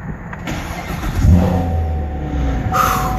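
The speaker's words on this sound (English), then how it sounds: "Hit the button to start the engine." A 2016 Chevrolet Corvette Stingray's engine is started by push button: a brief starter crank, then the engine catches with a loud rising rev before settling into a steady, rumbling idle, heard up close with no talking.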